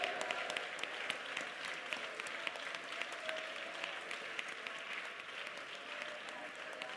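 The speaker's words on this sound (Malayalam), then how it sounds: "കൈയടിച്ച് ഉറക്കെ ദൈവത്തെ സൂചിച്ച ദൈവമക്കളെ" A church congregation at an IPC Prayer Centre Sunday service claps hands continuously, a dense, fairly distant rattle of many hands that stays steady from start to end, with a faint voice underneath.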